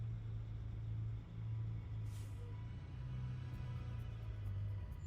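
An Edison L Series truck in American Truck Simulator rumbles with a low, steady engine-brake drone, fairly faint, with a brief hiss of air partway through.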